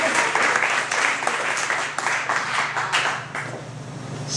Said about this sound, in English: Big round of applause for my Facebook friend, Miss Harriet Rose.